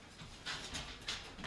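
A dog pants close by in quick, breathy bursts, a few rapid huffs over about a second and a half, fairly quiet with no talking.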